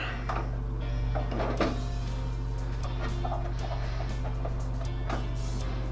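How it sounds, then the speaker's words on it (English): Thumb screws being undone and the side panel taken off a Cooler Master MasterBox MB510L case, a series of close clicks, taps and scraping handling noises over a steady low electrical hum. "Let's just take off the thumb screws."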